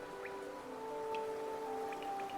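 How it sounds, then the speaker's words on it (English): Soft rain patters against glass in the Hollow Knight game's City of Tears, a steady faint wash of drips with occasional brighter droplet ticks over a sustained tonal ambient hum, no voices. "I still love the sound of the rain upon glass."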